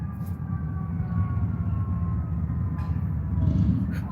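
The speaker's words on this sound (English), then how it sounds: "It's ambulance." An ambulance siren wails faintly in the distance near a park, its thin sliding tone riding over a heavy low rumble of traffic and ambient noise throughout.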